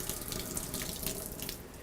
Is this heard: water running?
yes